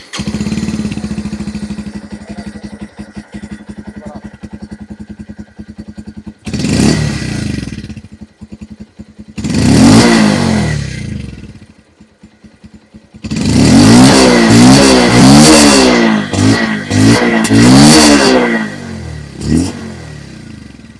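A 2024 Bajaj Pulsar 150 motorcycle idles with a steady engine and exhaust note, then revs several times in loud, close bursts, rising and falling with rapid throttle blips near the end.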